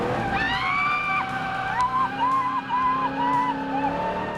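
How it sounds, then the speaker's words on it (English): A V8 race car drives past with its engine note rising and falling in long sweeps, and tires squeal in sustained wavering tones. It stays loud and close throughout with no talk. "have you ever been in a V8 race car?"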